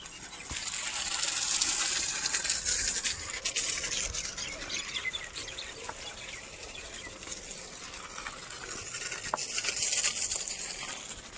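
Water splashing down while young mosambi saplings are watered on a farm, a soft, fairly distant gushing patter that swells and eases, with faint outdoor background sounds.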